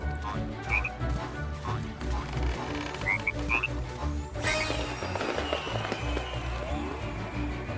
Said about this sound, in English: I mean, they're frogs. Can't they swim?